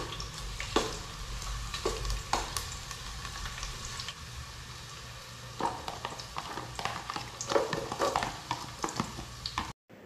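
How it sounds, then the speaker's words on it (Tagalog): Garlic sizzles and fries in a pan while being stirred, with scraping stirs and soft crackle, close and fairly quiet, alone without talk. "sinunod ko naman yung bawang at minekos-mekos ko lang din ulit yan"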